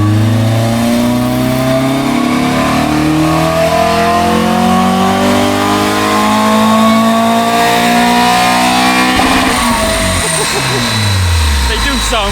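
Renault Clio 182 with basic bolt-on modifications revving hard on a dyno, the engine note climbing steadily through the gears before dropping off, loud and close, with talk underneath.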